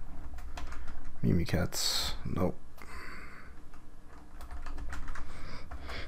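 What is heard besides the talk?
typing on a computer keyboard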